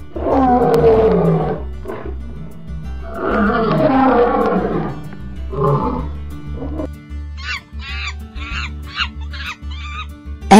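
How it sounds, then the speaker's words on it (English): A lion roars loudly and close, several long rumbling roars in a row, followed by a run of short, faint high calls near the end; no talking is heard. "L. Lion."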